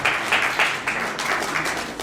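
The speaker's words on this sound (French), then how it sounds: "Linda Kotz, sous vos applaudissements." An awards ceremony crowd claps in a dense, continuous patter, fairly loud and steady for a couple of seconds, with no voices on top.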